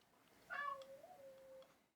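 An upset cat gives a single drawn-out meow, rising sharply and then sliding down into a long wavering tail, close by and clear against a quiet room.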